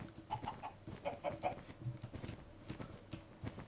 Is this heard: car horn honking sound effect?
no